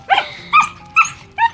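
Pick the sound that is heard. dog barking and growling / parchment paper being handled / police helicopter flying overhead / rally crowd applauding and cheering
dog barking and growling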